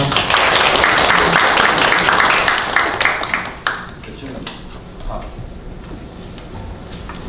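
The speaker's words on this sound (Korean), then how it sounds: "박수로 맞이해주시기 바랍니다." Applause from an audience at a Korean forum on illegal webtoon services, loud and sustained as panelists are welcomed, then tapering into quieter room noise and scattered claps.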